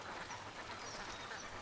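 Farm ducks raised for sale, kept where they are bathed and fed, quack steadily as a flock, their overlapping calls forming a dense, continuous chorus with no break.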